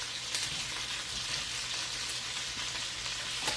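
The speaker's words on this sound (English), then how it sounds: "It doesn't take long at all for our sausage to cook." Sausage frying in a pan on lowered heat, a steady, soft sizzle with faint crackling pops throughout and no voices.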